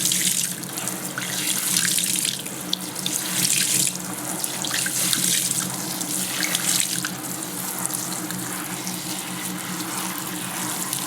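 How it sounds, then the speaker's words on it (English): Tap water running steadily over wet felt at a sink, a continuous splashing hiss that swells and eases a little as the fabric is moved under the stream, close by with no voices. "you just want to run cold water and then hot water over it."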